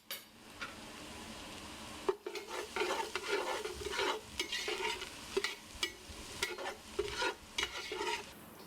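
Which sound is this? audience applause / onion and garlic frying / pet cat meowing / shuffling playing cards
onion and garlic frying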